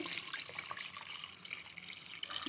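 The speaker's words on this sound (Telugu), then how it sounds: "ఒక లీటర్ వాటర్ నాకు పోసేయండి" Faint water trickling and splashing into a pot with salt and chili powder for chicken sherva, a soft uneven patter with small drips, fairly quiet throughout.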